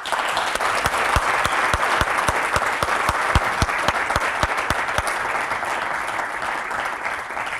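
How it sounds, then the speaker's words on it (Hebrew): A crowd at a club launch event breaks into loud, sustained applause, dense overlapping clapping with sharp individual claps standing out near the mic, fading slightly toward the end. "כפיים."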